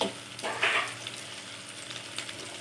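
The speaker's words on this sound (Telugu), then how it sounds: "ఇప్పుడు మనం పచ్చిమిర్చి ఉల్లిపాయ వేసుకొని మంచి గోల్డెన్ బ్రౌన్ కలర్ వచ్చే వరకు వేసుకోవాలి" Green chillies and chopped onions fry in hot oil in a pan for a cherry tomato prawn curry. A steady close sizzle carries throughout, with a brief louder stirring scrape near the start.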